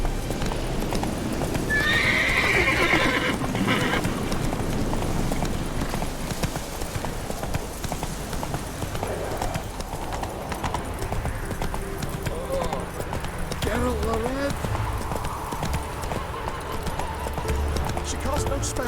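Horse hooves galloping and a neigh in the video game The Witcher 3: Wild Hunt, a continuous rhythmic clip-clop with a clear whinny early on, under game dialogue and voices.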